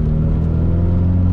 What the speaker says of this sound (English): I wanted to see what would happen if I was in second and I clutch kicked it